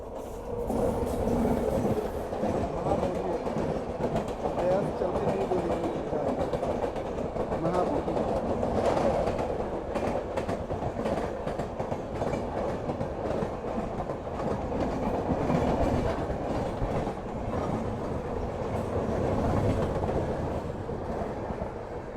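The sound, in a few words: train 14007 Sadbhavana Express running on rails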